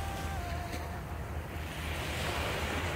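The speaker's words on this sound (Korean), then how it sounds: "와, 파도 소리." Ocean waves roll onto Haeundae beach in Busan at night, a steady loud wash of surf building toward the end, with wind rumbling across the microphone.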